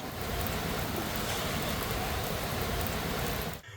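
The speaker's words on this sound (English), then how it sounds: "And it's pouring down rain." Heavy rain pours down steadily in a loud, dense wash of noise, cutting off abruptly near the end as if a car door shuts.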